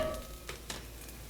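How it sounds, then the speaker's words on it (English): Four cloves of finely minced garlic hitting a pan of cooked, translucent onions, giving a faint, close sizzle with a couple of soft stirring scrapes. "so I'm going to go ahead and add in my garlic"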